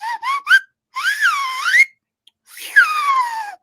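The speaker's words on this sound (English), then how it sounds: "It's like a slide whistle." Whistle tones gliding up and down in pitch like a slide whistle: three short rising chirps, then a longer wavering slide, a gap, and a final falling glide. The tones are loud and close, with no talk.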